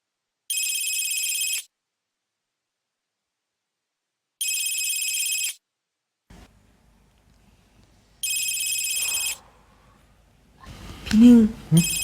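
A telephone rings in three separate electronic bursts spaced a few seconds apart, clear and fairly loud in a quiet room, with brief low rustling and a person talking near the end.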